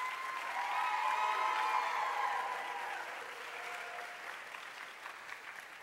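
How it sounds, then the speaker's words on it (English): Audience applause at a scholars' program event, a sustained wash of clapping that peaks early then gradually thins and fades, with some faint tonal sounds and murmurs underneath. "So let's give them a round of applause"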